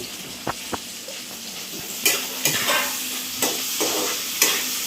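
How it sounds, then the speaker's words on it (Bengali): Onions fry with a spoon of salt in a pan, sizzling steadily up close while a utensil scrapes and stirs in repeated sharp strokes, no talking over the cooking. "একটু পেঁয়াজটা তাড়াতাড়ি মজে যাবে বলে তাই ভাজার সময় একটু নুন দিয়ে দিলাম"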